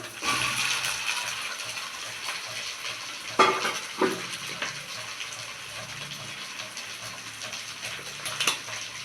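Potatoes added to a hot pan of oil in a Bengali fish-head rice dish, sizzling and frying steadily with a few stirring clatters, close and fairly loud, no talking.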